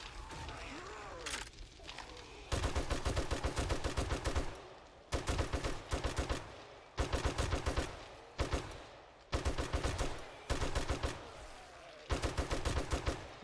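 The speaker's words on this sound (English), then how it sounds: "And you see this weapon's really awesome, everybody. M60 just mows them down." An M60 machine gun fires at zombies in the game 7 Days to Die in loud, rapid sustained bursts, about six long volleys separated by short pauses, each a dense rattle of shots.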